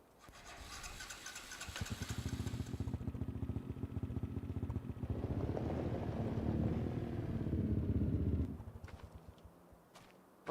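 Four-wheeler ATV engine in the video game Farming Simulator 25 cranks, then revs and runs with a buzzing, mid-pitched drone before cutting off abruptly, with no talking.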